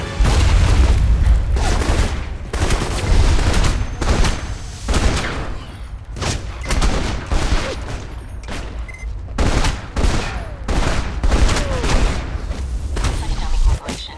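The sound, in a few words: gunfire in video game Alpha Protocol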